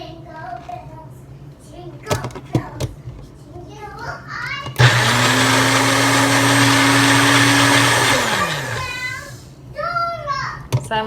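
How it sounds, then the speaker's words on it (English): A blender purées cooked baby food with added cooking water, starting abruptly as a loud steady whir that holds for about three seconds, then winding down, with a voice and other speech before and after. "We're gonna take this to the blender."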